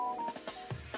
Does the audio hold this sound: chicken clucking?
no